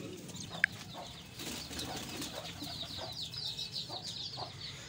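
Quails and pigeons calling and clucking together in a busy flock, with chirps and coos overlapping against a steady outdoor background.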